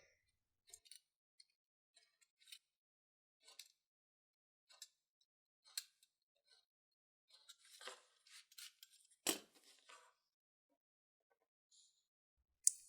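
Italian leather trimmed for a money clip, heard as sparse quiet snips and small clicks spaced irregularly, one sharper cut standing out, close and alone in near silence.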